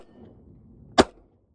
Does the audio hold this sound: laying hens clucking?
no